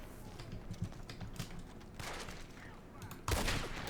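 Gunfire in Red Dead Redemption 2 on a town street, irregular bursts of shots and sharp cracks mixed with keyboard clatter, moderately loud with a heavier blast near the end and faint speech underneath.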